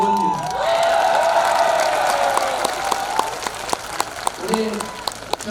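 Crowd applause with cheers at an outdoor campaign speech on Ilsan Beach in Ulsan, a sustained clapping wash punctuated by sharp claps, with amplified voices talking at the start and end.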